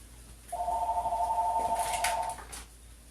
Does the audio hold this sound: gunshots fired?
no